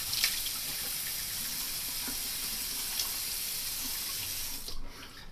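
Tap water runs steadily into a bathroom sink while a man rinses cleanser off his face, a close, even splashing hiss with a few small splashes before the flow cuts off near the end.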